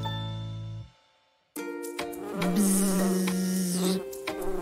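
Buzzing of pollinating insects such as bees in a cartoon about pollinators, a steady droning hum that cuts off into brief silence before bright musical tones and a sustained buzzing note take over.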